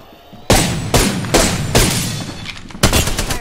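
Weapon fire in the video game Apex Legends, heard as a loud, close series of about six heavy shots or bursts at roughly half-second intervals, each with a booming tail, and no talk over them.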